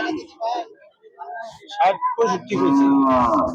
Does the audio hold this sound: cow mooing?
yes